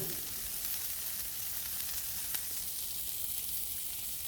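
Onions frying on a smashburger griddle give a dense, steady hiss of sizzling oil, close and unbroken throughout with no voices.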